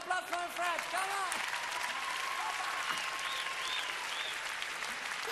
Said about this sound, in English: One applause for Fred.